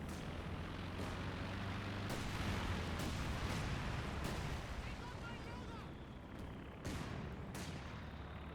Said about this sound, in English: We do got incendiary artillery barrage being called on in.